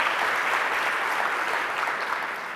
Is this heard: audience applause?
yes